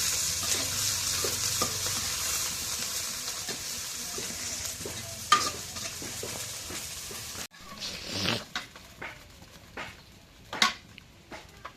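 Chopped onions and green chillies sizzle in hot oil while a spoon stirs and scrapes the pan in irregular strokes; the frying hiss drops partway, leaving louder clanks and scrapes.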